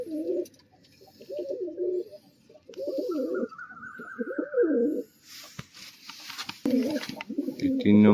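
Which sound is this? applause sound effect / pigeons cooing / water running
pigeons cooing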